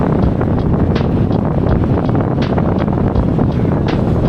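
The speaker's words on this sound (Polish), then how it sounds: "wieje jak skurczybyk" Strong wind roars into the microphone of a cyclist riding near an airfield on the way to work, a loud, constant buffeting rush that fills the whole clip with no voice.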